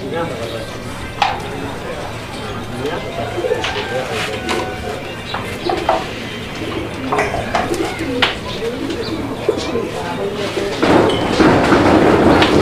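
A male fancy pigeon in breeding season coos in low, repeated rolling calls close by, with occasional thumps and people talking in the background.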